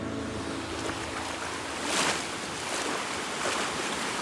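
Ocean surf washing in along a Bicol beach, a steady broadband rush with a louder swell near the middle, wind buffeting the microphone throughout.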